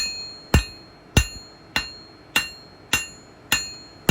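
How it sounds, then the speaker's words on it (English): Blacksmith's hammer using its flat face to spread hot metal into a leaf shape, six sharp ringing strikes at an even pace of about one every half second, close and clear with no talk. "I'm going to take the flat side of my hammer and begin to spread the point that I'd isolated"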